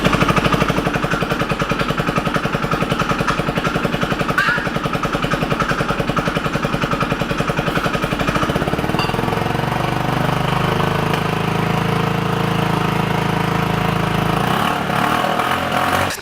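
A 50cc Chinese scooter engine runs after its carburetor is refitted, a loud, close, rapid buzzing putter that settles into a lower, smoother idle partway through and cuts near the end.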